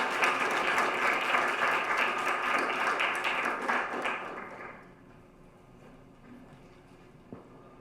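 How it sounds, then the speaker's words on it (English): Audience applause at a community symposium on immigrant and refugee services, a dense wash of clapping that holds steady for about four seconds, then thins and fades into scattered claps and room murmur. "we'll give them a round of applause"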